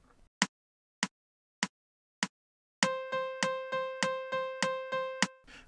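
Four sharp metronome-like clicks count in evenly, then a saxophone plays a steady run of short, evenly spaced quaver notes on one pitch, clear and up close with no talking.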